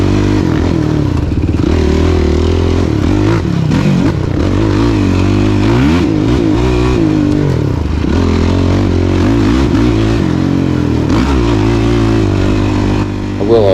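An off-road motorcycle lapping a GNCC-style woods track, its engine loud and close throughout, revving and dropping as the rider accelerates and slows, with constant rattling and clatter over the terrain.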